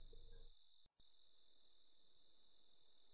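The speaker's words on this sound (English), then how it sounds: "Get rid of the crickets." Night crickets in the video game Minecraft chirp as a steady, high, even trill that runs through the whole stretch, briefly broken by a couple of soft clicks near the start.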